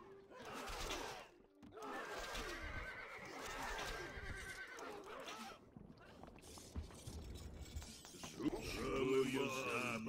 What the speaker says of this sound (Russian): Наши лошади готовы.